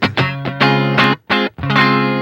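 Clean electric guitar played through a Boss ME-25 multi-effects unit on its first amp setting with delay and reverb off: a few sustained strummed chords with short gaps between them, close and clear.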